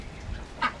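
A single short duck quack rings out near the end over quiet outdoor background noise, moderately close, during a day out in Vietnam.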